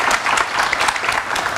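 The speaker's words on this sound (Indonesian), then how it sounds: "Tepuk tangan yang meriah untuk narasumber saya" A studio audience at an Indonesian political talk show applauds guests with dense, steady clapping that fills the room throughout.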